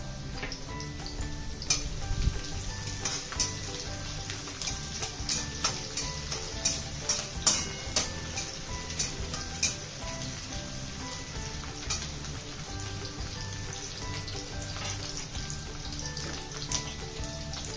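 Garlic and green chilies frying in a pan for a dal and fenugreek-leaf dish, a steady close sizzle with scattered crackles and pops running throughout, over faint tonal background music.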